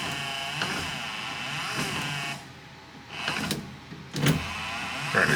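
Windshield wipers running on a 1973 VW Thing during restoration, a close steady electric motor whir with a few sweeping swells and a quieter dip partway through, no talk.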